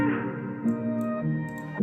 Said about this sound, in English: I like to put a little reverb on